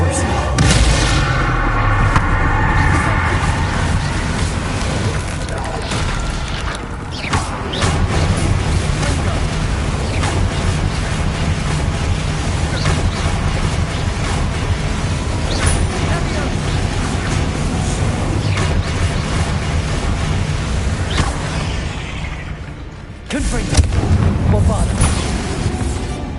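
Bombarda explosion spell cast in Hogwarts Legacy, loud booming blasts and rumbling debris filling the scene continuously, with a heavy burst near the end and a voice talking over the game sound.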